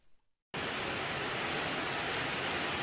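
Giessbach Falls in Switzerland roars with natural water, a loud, steady, dense rush that starts abruptly after a brief quiet moment and continues unbroken.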